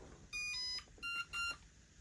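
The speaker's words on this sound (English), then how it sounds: "That beeping noise," A Hospeed 1/14 scale brushless RC car's electronics emit a short series of quiet, high musical beeps, a few stepped tones grouped in quick bursts, close by in a quiet room.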